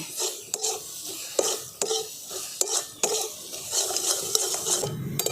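A spoon stirs a coconut filling with dry fruits for Ganesh Chaturthi modak in a pan, giving a quiet sizzle under repeated scraping strokes and clinks against the metal.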